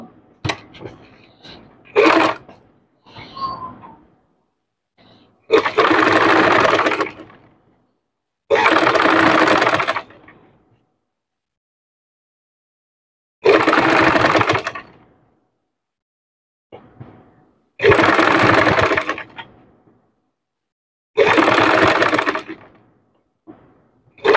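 A sewing machine stitches fabric in six loud bursts of rapid whirring clatter, each a few seconds long, separated by quiet pauses and preceded by a few short taps and handling noises.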